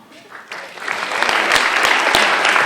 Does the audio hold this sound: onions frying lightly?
no